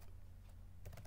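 Quick bursts of keystrokes on a computer keyboard, faint and close over a steady low hum, with a denser cluster of clicks near the end.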